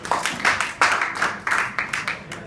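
Audience clapping at a French debate training session, a short burst of scattered hand claps in uneven bursts, moderately loud and close.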